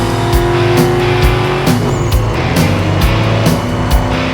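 A Hummer H2 SUV drives on a road, its engine a steady, loud, continuous drone with a low harmonic hum and periodic rhythmic thumps, close and alone with no talking.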